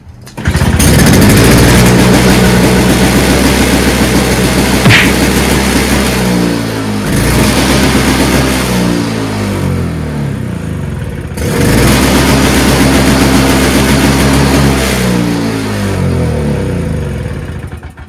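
The small gasoline engine of a Toro Snow Commander snow blower runs loud and close, surging and dipping in speed with a buzzy, rough drone and a brief drop partway before picking back up.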